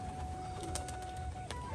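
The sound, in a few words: Giribaz pigeons cooing in a pigeon loft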